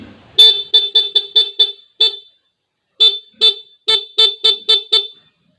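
A dual contact horn installed on a motorcycle blares loud, car-like honks up close, first as a quick run of six short toots and a single blast, then after a pause another rapid series of beeps.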